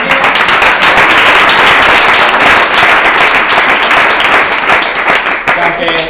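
Loud, close audience applause at a farewell event, a thick wash of many hands clapping without a break, with voices and cheering mixed into the noise.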